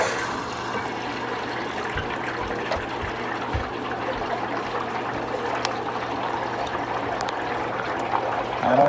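Water running from the opened cold supply line into a newly installed electric water heater tank, a steady close trickling and rushing flow with a low hum underneath, continuous for several seconds with no talk.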